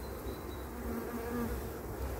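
Honeybees hum steadily at a breeding apiary beside hives with open brood frames, a close, continuous buzz with no voices.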